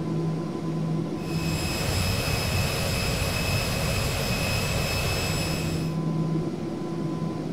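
Airliner jet engines in the X-Plane 10 flight simulator give a steady, loud roar with a high whine running through it. The sound thickens for a few seconds in the middle, then settles back, with no talking.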